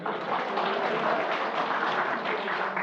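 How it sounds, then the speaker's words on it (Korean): Applause from a lecture audience in Busan, dense continuous clapping from many people, fairly loud and even throughout, with no speech heard over it. "박수 한번 쳐."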